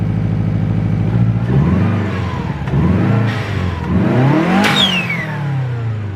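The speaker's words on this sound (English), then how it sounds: "I go rev the car through" A car engine fitted with a Grimspeed cold air intake revs hard, climbing to a high-pitched whine before dropping back and settling into a loud, rumbling idle.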